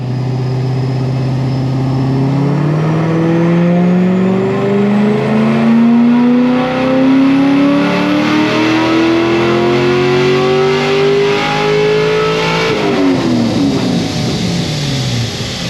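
A car engine with a forged build revs up steadily for several seconds, its pitch climbing higher and higher, then drops off sharply as the throttle is released; loud and close.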